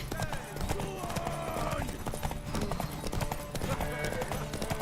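Galloping horse hooves beat in a fast steady rhythm in The Witcher 3 during a race, mixed under music while a character's voice speaks over the pounding.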